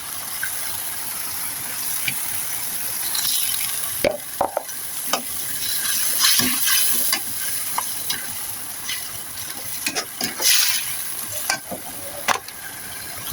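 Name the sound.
chicken frying and stirring in pan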